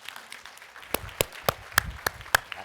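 Sparse, distinct hand claps from a small audience after a presentation on agricultural challenges in Latin America, about eight separate claps spaced unevenly over a few seconds with faint murmuring underneath.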